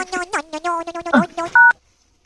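A quick run of electronic phone tones beeps in an uneven sequence, ending on a longer steady tone before falling silent.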